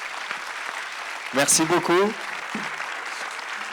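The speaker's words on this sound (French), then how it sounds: "Je vous propose d'applaudir" An audience at a talk on comedy and news claps continuously throughout while someone briefly speaks over the applause near the middle.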